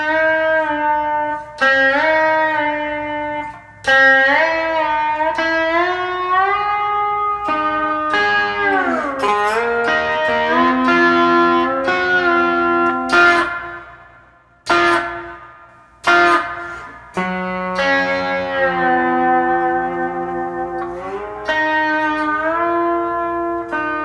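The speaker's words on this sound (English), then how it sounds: "And here's with this AKG reverb." Instrument notes played through the AKG spring reverb preset on a Poly Effects Digit pedal: sustained, sliding tones ring out loud and alone with a lingering wash, broken by a few brief gaps.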